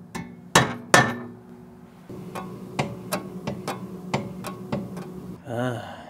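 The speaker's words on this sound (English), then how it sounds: "I'm just gonna lightly tap it until I'm just kissing the steel." Light hammer taps on a table saw part set the blade alignment against steel: a few sharp louder knocks, then a quicker run of about ten small metallic taps, ending in a brief scraping rattle.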